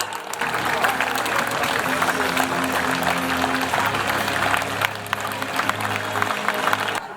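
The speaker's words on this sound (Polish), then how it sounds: "Wielkie brawa" An outdoor crowd applauds at an international knights' tournament at the royal castle in Łęczyca, a steady wash of clapping over a low engine-like drone, with voices mixed in.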